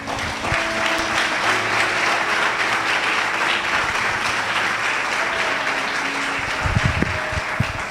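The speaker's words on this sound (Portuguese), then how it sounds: "Você pode dar uma salva de palmas para Jesus?" A church congregation applauds during a Portuguese-language sermon, dense sustained clapping from many people filling the hall, loud and continuous throughout, with a few low thumps near the end.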